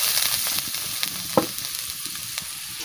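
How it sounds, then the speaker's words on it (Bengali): Water poured into a hot pan of fish head and greens kicks up a loud, close frying sizzle with a sharp burst partway through, then a steady crackling hiss and a few utensil taps. "জল ঢেলে দিলাম"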